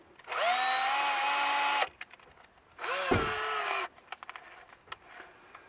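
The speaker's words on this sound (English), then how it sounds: "To drill a guide hole." An electric drill fitted with an 8mm bit bores a guide hole while an inspection hatch is installed. There are two close, whining bursts, a longer one of about one and a half seconds and a shorter one of about a second, with pauses between them.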